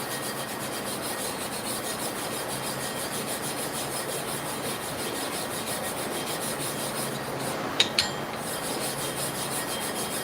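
A small piece of wood rubs abrasive compound across the porous surface of a clipper blade sharpening plate, giving a steady, close, continuous rasping scrape with a couple of brief sharp clicks near the end.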